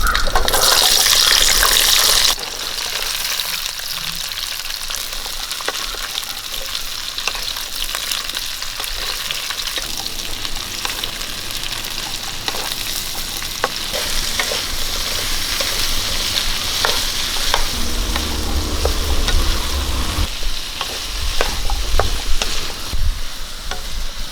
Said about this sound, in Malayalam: എണ്ണ ചൂടായിട്ടുണ്ട് ഇനി ചാമ്പയ്ക്ക അതിനകത്ത് ഇട്ട് നമുക്കൊന്ന് വഴിച്ചെടുക്കാം